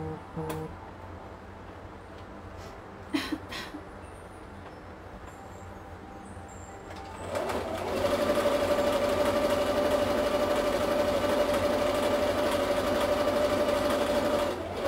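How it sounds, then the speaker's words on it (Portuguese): Sewing machine stitching around a small doll's shoe pattern, starting after a few seconds of quiet handling noises and then running in a steady, continuous whir close by until the end. "Venho aqui para a máquina e vou costurar."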